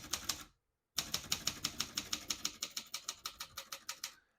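Rapid keystrokes on a 1972 Consul 231.3 vintage portable typewriter: a short burst of clacks, a brief pause, then a steady run of about fifteen crisp, evenly spaced strikes, close and loud with no voices.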